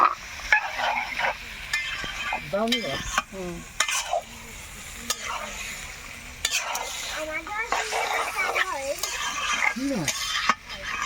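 Marinated chicken fries in a pan with a steady close sizzle while a utensil scrapes and stirs it in irregular bursts, with occasional metallic clinks and scattered background noises layered over the frying.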